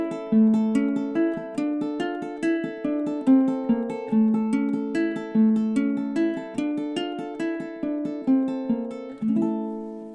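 Malagueña, a flamenco-inspired piece, played on a low-G ukulele: a steady stream of plucked and strummed notes with a repeating bass line, bright and close, carrying on alone without any voice.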